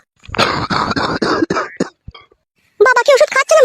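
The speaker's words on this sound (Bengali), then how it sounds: "বাবার কাশিটা আবার বাড়ছে দিন দিন।" An elderly father coughs hard several times in a row, each cough loud and close. After a short pause a voice starts speaking.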